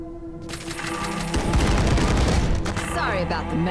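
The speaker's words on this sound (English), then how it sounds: "I want to just use this chain gun just so you guys can see it" Rapid chain gun fire in the video game Ion Fury, a dense stuttering burst that swells loud and close over a background of game music and effects, running almost continuously.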